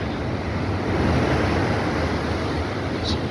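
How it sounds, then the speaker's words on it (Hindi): High ocean waves, around 8 to 10 feet, crashing continuously at a Karachi beach, a loud dense roar of surf mixed with wind buffeting the microphone throughout. "कितनी फुट ऊंची लहरें जो हैं वो आ रही हैं।"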